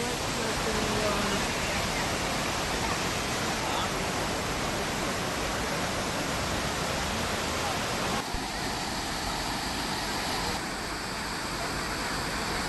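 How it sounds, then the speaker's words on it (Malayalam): Cheeyappara waterfall on the Munnar route pours in a steady, dense roar of rushing water that fills the whole scene, close and continuous, with voices faint beneath it. "മൂന്നാർ പോകുന്ന റൂട്ടില് സിയാപ്പാറ വാട്ടർഫാൾസ്."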